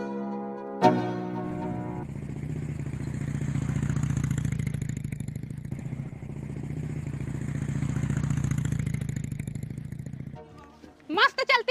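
A motorcycle engine starts and runs close by, a steady low chugging that rises and dips over several seconds before cutting off near the end, followed by a brief voice.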